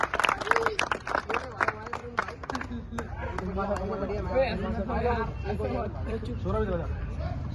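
A crowd at a sapate competition in Sultan Puri claps for a prize winner: a burst of sharp, scattered hand claps up front, then fading into crowd chatter and voices talking over the remaining clapping.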